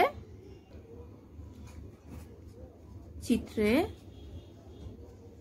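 A pen or marker writes on a board during a geometry lesson, making soft scratchy strokes that are faint under the room tone, and a voice speaks briefly.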